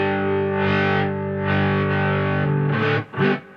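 Electric guitar played through a distortion effect pedal, sustained fuzzy chords ringing with a thick, saturated tone, a few held notes changing before a short choppy strum at the end, loud and without talk.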